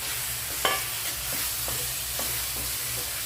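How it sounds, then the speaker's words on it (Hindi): Pointed gourd and potato are stirred into a masala curry frying in oil, a steady close sizzle with a few scraping spoon strokes over it and no talking. "आलू को भी डाल देते हैं और अच्छे से मिलाते हुए 2 मिनट भून लेते हैं।"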